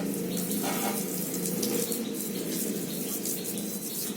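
Water runs steadily and strongly while a car is washed at home, a continuous splashing rush with no pauses.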